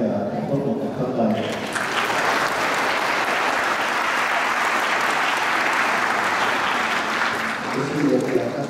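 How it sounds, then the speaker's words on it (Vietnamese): An audience applauds a children's choir, a broad, steady wash of clapping that swells in after a brief spoken moment and holds loudly, with talk returning near the end. "Xin cho các em được một tràng pháo tay."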